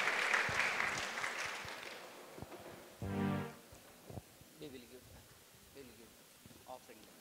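Audience at a church gathering in Srikakulam claps loudly for about two seconds; the clapping fades, then voices and other sounds follow.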